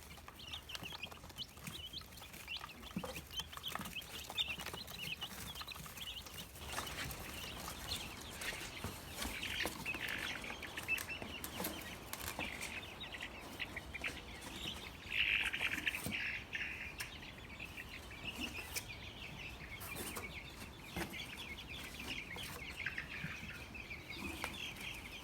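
Ameraucana chickens cluck and chirp in a coop with fresh bedding, a steady, fairly faint chatter of hens running throughout with no voices.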